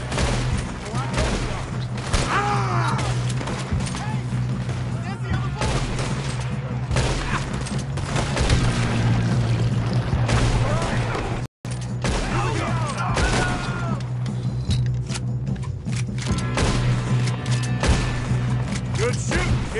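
Gunfire in a video game shootout, rapid bursts of shots and impacts over a constant background rumble, with people talking in between.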